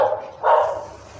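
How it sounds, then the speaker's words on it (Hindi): Dogs bark somewhere nearby in a Hindi-speaking household setting, a short burst of two barking sounds rising midway, moderately loud with no speech over it. "इनके बातों पे कुत्ते क्यों भौंकने लगे।"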